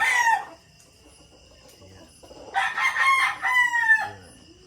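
A Limonsito gamefowl rooster of Mount Banahaw bloodline crows loudly and close by, with one crow at the start and a longer one in the middle, separated by quiet clucking and faint background crowing.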